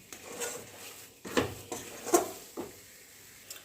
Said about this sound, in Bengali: যতক্ষণ পর্যন্ত কড়াই থেকে না ছেড়ে যাবে ততক্ষণ পর্যন্ত এরকমভাবে নাড়তেই থাকবে